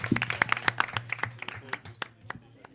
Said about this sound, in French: On applaudit. On applaudit très fort.